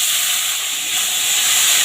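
Washed, cut potatoes hit hot oil seasoned with ginger and asafoetida for a kachori filling, giving a loud, steady broadband sizzle that holds for the whole moment with no voices.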